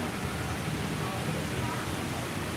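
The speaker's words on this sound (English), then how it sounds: "Doesn't that sound like rain?" Steady soft hiss of rain falling at Disney Springs, even and continuous, fairly faint, with no voices over it.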